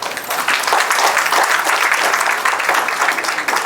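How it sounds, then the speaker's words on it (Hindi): Steady, dense applause from a wedding gathering fills the whole stretch, many hands clapping together at an even, loud level without a break. "फिर से एक बार तालियां।"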